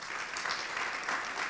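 An audience at a cybersecurity talk gives a brief burst of steady, close applause, dense clapping filling the whole moment without voices.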